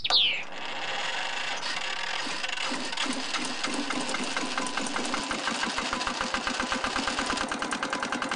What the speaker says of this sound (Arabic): كمدرسة موجود فيها موتور يعمل على السولار